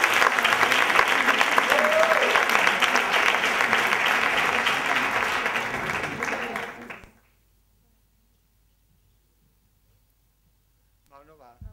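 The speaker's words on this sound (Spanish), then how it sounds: "un aplauso para él" Sustained applause from an audience fills the first seven seconds, then cuts to near silence before a voice briefly begins speaking.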